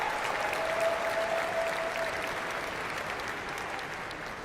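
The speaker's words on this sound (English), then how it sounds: "They're still goddamn cheering." A large crowd at the E3 2013 press conference applauds and cheers in a dense, sustained wash of clapping that slowly fades a little, with a faint tone running underneath.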